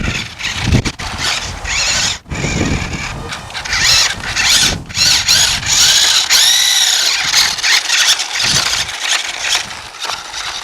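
An electric motor of a remote-controlled toy car whines and buzzes outdoors in wind, a loud, continuous mechanical hum with rising and falling squeals as it speeds up and slows, with brief gaps between runs.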